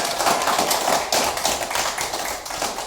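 A classroom group of students applauds in a dense, steady patter of many hands clapping at close range, continuing without pause and with no talking over it.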